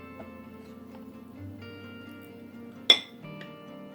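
A fermentation weight lifted out of a jar of lacto-fermented pickles, heard as one sharp, bright glass clink over a quiet background with faint low handling noise.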